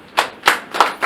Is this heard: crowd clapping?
yes